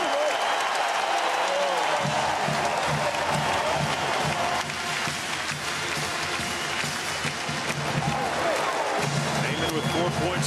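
A college basketball arena crowd applauds as seniors come out of the Missouri at Tennessee game, a dense, sustained roar of clapping and cheering with a commentator talking over it throughout.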